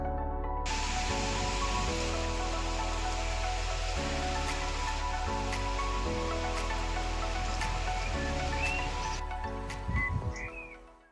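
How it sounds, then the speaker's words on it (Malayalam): Heavy rain falls outdoors in the UK as a constant, even hiss over a low background hum, fading slightly toward the end. "നല്ല മഴയാണ്"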